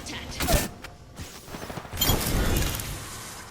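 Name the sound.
gunfire in video game Apex Legends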